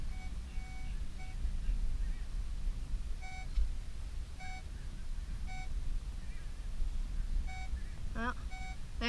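A beach metal detector beeps over a bobby pin, steady repeated electronic tones in single and double pulses over wind and surf rumble, with a brief warbling sweep near the end.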